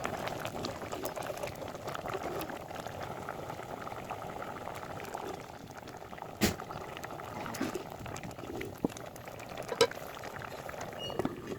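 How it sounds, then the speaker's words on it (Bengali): Tomatoes boiling in a covered pot, a steady low bubbling simmer that runs throughout at moderate level, with a couple of brief clinks and no talk. "ঢাকনা দিয়ে ঢেকে ঢেকে টমেটোগুলোকে সেদ্ধ করে নিব"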